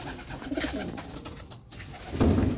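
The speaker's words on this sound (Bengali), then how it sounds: "পায়রাগুলো ভয় পাচ্ছে, আমি বেরিয়ে যাচ্ছি," Startled pigeons cooing in their nest boxes, a few low coos nearby rising louder toward the end, with light rustling around them.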